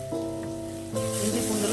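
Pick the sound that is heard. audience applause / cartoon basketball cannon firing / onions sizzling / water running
onions sizzling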